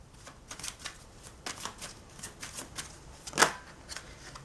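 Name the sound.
playing cards being shuffled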